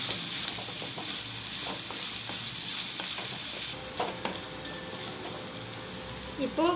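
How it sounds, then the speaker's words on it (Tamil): Onions frying in a pan, a steady hiss and crackle of sizzling oil with stirring scrapes, close and fairly loud, easing slightly near the end. "ஆனியன் நல்லா ஃப்ரை ஆகிடுச்சு."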